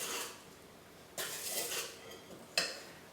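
A spoon stirs vanilla into gluten-free pear upside-down cake batter in a bowl, making quiet, intermittent bursts of scraping and clinking against the bowl, with three separate stirring strokes and soft pauses between them.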